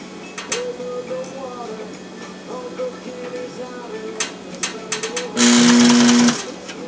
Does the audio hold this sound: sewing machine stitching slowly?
yes